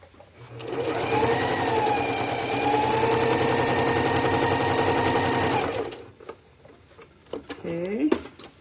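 Sewing machine running a long, even stitch: a close, steady motor hum with rapid needle chatter for about five seconds, then it stops and a voice speaks amid light handling clicks.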